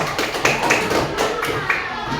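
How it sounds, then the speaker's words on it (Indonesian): Elementary school classmates clap in a classroom, a light, uneven patter of hand claps and taps at moderate loudness. "Tepuk tangan buat teman-teman yang tepuk tangan"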